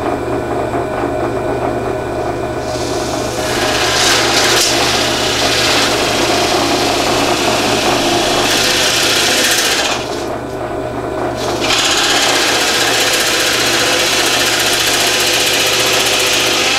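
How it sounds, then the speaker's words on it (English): A steady, loud mechanical whir of a drill press runs throughout, with a rasping, grinding texture as a Forstner bit cuts through wood, briefly easing midway. "I'm going to take the Forstner bits over to the drill press, I'm going to drill through"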